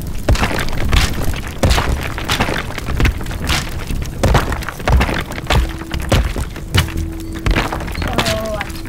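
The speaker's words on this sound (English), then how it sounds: "So I'm smashing the roof so it can come down." A roof being smashed apart in the voxel destruction game Teardown, with a rapid run of loud thuds, cracks and splintering crashes. A voice talks faintly underneath.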